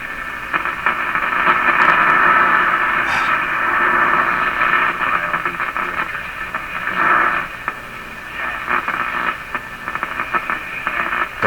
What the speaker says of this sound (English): Don't listen to this radio in my shop, that's for sure.